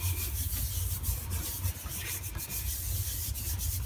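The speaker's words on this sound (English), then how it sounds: "Give it a nice little rub." Hand rubbing across a paint-covered printing plate pressed onto paper in a printmaking session, a steady continuous scrubbing friction with soft low thumps, close and alone with no talking.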